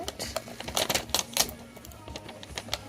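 A sticker or film is peeled off glass, giving a quick run of small crackling clicks and ticks that bunch up in the middle, then thin out into scattered snaps.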